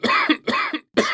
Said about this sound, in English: Say, that's a bad cough